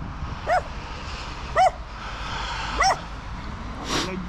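A dog in a forest gives three sharp, separate yelps or barks spaced about a second apart, fairly near, over steady outdoor background noise with no speech.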